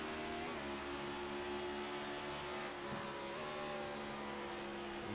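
Race car engine at the ARCS Jingle Jam race, revving steadily with audible drops in pitch as gears shift, a loud continuous drone with other cars around and no talk.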